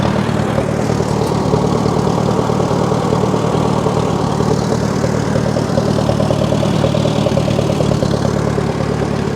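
A rebuilt Farmall Super M tractor engine cranking, a loud, steady low mechanical churn held for the whole stretch with no break and no voices.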